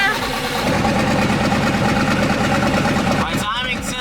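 A twin-turbo LS-swapped Foxbody sits at a loud, lumpy idle of about 1,000 RPM with a large cam, its rumble dominating before a brief dip near the end; someone talks over it.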